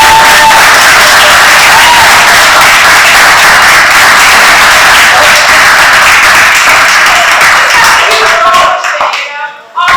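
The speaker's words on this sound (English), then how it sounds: "can you join me and give them another round of applause?" A large audience at a live show claps in a dense, loud, sustained round of applause that fills nearly ten seconds before quickly dying away at the end.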